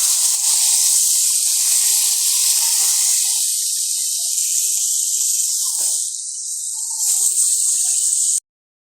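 Ash gourd pieces hiss steadily in a hot pan, a loud, even steamy sizzle that fades slightly before cutting off abruptly.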